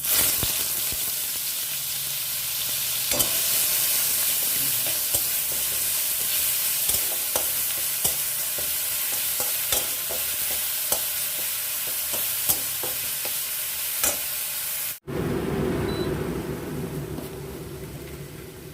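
Ginger, garlic, onion and chili paste fry with eggplant in hot oil for a cauliflower, potato and eggplant curry, giving a steady close sizzle with scattered stirring scrapes, then a sudden cut to a quieter, softer frying hiss near the end.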